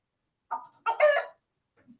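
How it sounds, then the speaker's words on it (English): A chicken sound effect from a soundboard app plays a few short clucking, crowing bursts in quick succession, followed by a faint trailing cluck in otherwise silent surroundings. "This chicken"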